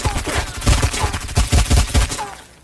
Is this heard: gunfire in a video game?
yes